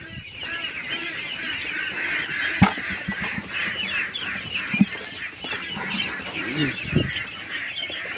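A crowd of ducks on a duck farm quacks and honks continuously and densely at close range, with a few louder calls rising above the steady chorus.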